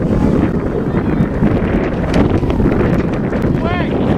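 Wind gusts loudly across an open freshman football field, roaring and buffeting the microphone without pause, with voices faintly mixed into the steady blustery noise.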